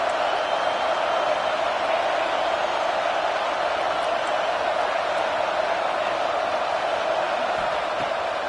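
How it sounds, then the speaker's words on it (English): Steady roar of a stadium crowd at a UNC versus South Carolina college football game, a dense continuous wash of voices and cheering that holds level throughout with no clear peaks. "This crowd trying to make life miserable for this offense."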